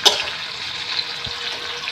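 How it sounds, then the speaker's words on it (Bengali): Tomato hitting hot oil over a tempering of green chili, cumin, dried red chili and bay leaf, giving a steady close sizzling hiss with a small pop at the start. "টমেটোটা তেলের উপর দিয়েছি।"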